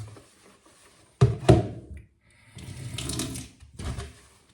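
Tap water runs in short bursts into flour while dough is being mixed for fishing bait, with splashes and thuds of handling in between, close and fairly quiet, with no talk.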